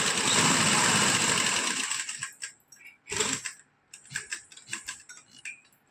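A sewing machine stitching a shirt neckline, a loud continuous whirring run for about two seconds that stops, followed by short scattered clicks and brief bursts of stitching.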